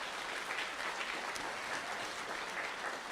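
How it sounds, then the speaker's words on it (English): A school audience applauds a school board member, even broadband clapping from a large crowd heard at a distance, fairly quiet and uniform throughout. "Please give her a round of applause."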